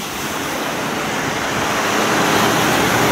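Steady, dense rushing of rainwater streaming along a road after intense rainfall, a continuous broadband wash with no pauses and no voices, fairly loud and close.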